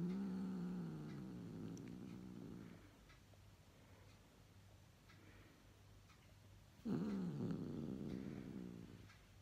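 A pet cat growls low and close in two long rumbling bouts, the first fading out after a few seconds and a second starting abruptly after a quiet pause.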